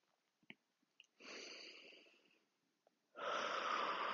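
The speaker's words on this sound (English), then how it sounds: "taking a deep breath, feeling the hands move, and then breathing out through the mouth" Two long, deep breaths out through the mouth come close and clear, each a breathy rush lasting about a second, separated by a pause with a few soft clicks and inhales.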